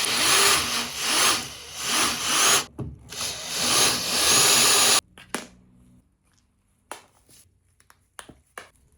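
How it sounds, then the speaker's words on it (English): A power drill whines through the rivets on a rusted, seized Volvo Penta starter solenoid cover in loud surging bursts with a brief pause, then stops, leaving scattered clicks and knocks of tools and metal parts. "I'll drill out the 4 rivets, take off the cover, and inspect the solenoid from the inside"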